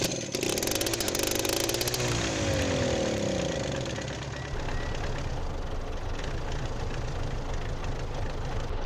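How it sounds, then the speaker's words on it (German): A Belarus MTZ 80 tractor engine in Farming Simulator 19 cranks and catches with a buzzy, chainsaw-like rasp, then settles into a steady, loud idle running close by with no talk. "Jetzt machen wir einen Motor an."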